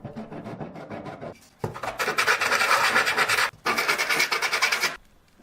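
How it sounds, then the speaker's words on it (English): A plywood piece is sanded by hand in long, loud rasping strokes, two sustained bursts after some softer scraping, close and alone with no voices. "so I'm sanding it a bit"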